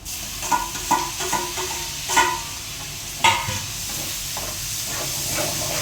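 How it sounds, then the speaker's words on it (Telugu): Chopped tomatoes drop into a hot frying pan of onions and green chillies, a steady broad sizzle and hiss with several sharp bursts and scraping stirs, close and fairly loud, no talking. "ఫ్రై ఇదిగోండి టమాటా వేసేస్తున్నా"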